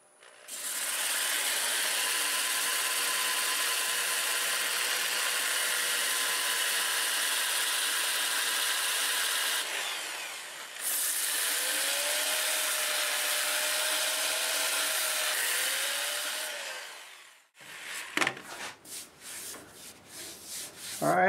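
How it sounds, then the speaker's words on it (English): A continuous loud abrasive whir of a 2-inch 120-grit disc sanding wood on a lathe, running in reverse at about 450 RPM, lasts over fifteen seconds with a brief pause, then gives way to scattered clicks and handling noises. "I'm going to start with a 2-inch disc, 120 grit. Sand in reverse at maybe 450 RPM."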